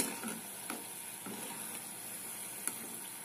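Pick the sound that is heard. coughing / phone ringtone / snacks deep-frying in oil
snacks deep-frying in oil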